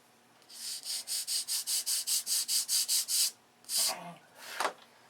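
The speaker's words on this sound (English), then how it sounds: "we're sanding it off the bottom" Sandpaper rubbed across the underside of a model airplane wing in about a dozen quick, even strokes, then two longer separate passes, close and fairly quiet with no talking.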